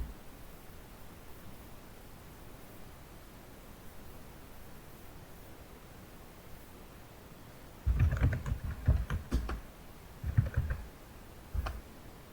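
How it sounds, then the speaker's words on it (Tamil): Typing an address on a computer keyboard: after a long stretch of steady hiss, short bursts of quick, close key clicks arrive in clusters, with brief pauses between them. "இப்போ நான் என்னோடய அட்ரஸ்ஸு நான் டைப் பண்ணுறேன்."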